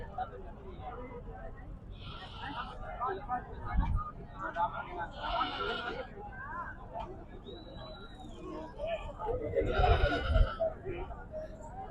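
Goats bleat in a busy livestock market, several short calls near and far under steady crowd chatter, with people talking nearby and background traffic noise.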